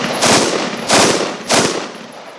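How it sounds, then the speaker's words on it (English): An IWI Tavor X95 Micro rifle fires three short bursts of automatic fire, each a loud close rattle of rapid shots, spaced roughly half a second apart. "So we're just going to touch off like 3 to 4 round burst."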